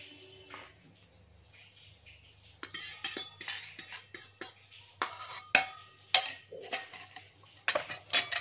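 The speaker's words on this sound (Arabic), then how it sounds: "ونقلب البيض مع البطاطس كويس كده" Eggs are stirred into potatoes in a dish for crispy potato patties, making a string of quick, close clinks and scrapes of a utensil against the dish in an uneven rhythm.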